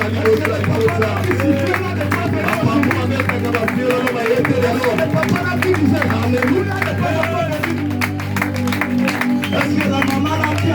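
Easter service congregation in a church clapping and acclaiming, dense overlapping claps, cheers and babbling voices above a constant low hum, sustained and loud across the whole stretch.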